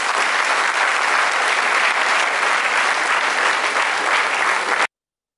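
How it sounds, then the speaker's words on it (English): Engineering students at a college event clap together in one big round of applause to welcome the chief guest, steady and loud for about five seconds, then stopping abruptly. "do one big clap to welcome our chief guest"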